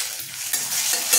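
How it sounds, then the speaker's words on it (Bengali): Dry red chilies and bay leaves hit hot mustard oil in a kadai, giving a bright, close, continuous sizzle and crackle that swells slightly as it goes. "এবার আমরা ফোড়নে দিচ্ছি শুকনো লঙ্কা, তেজপাতা,"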